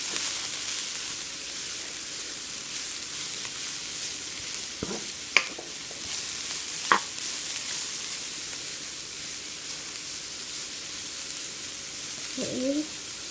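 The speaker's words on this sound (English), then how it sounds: "So then you can add in all of your Brussels sprouts. So there, and give that a good mix." Brussels sprouts sizzle and fry in a pan as they are stirred, a steady hiss with a few sharp scraping clinks of the utensil against the pan.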